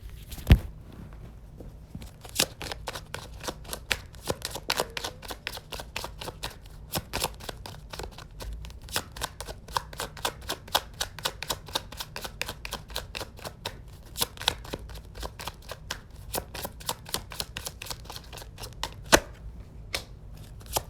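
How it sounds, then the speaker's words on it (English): Tarot cards being shuffled by hand, a dense run of quick crisp riffling clicks close up that goes on steadily with no speech. "I'm going to pull one more card."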